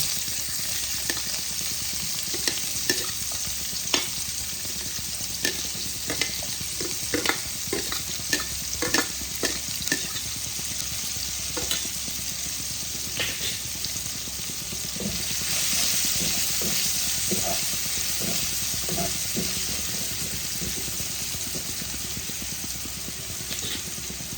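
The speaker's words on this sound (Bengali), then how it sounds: "ফোড়ন থেকে একটা সুন্দর গন্ধ বেরোলে আমি পেঁয়াজ কুচিগুলোকে ছেড়ে দেব।" Chopped onions fry in spice-tempered oil for a Bengali-style rohu fish curry, making a continuous crackling sizzle punctuated by repeated spatula taps and stirring scrapes against the pan, close and even in level.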